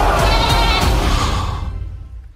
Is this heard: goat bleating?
yes